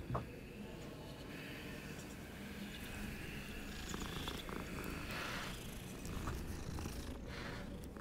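A cat purring in the video game Hogwarts Legacy, a steady low rumbling loop that continues without a break over game ambience.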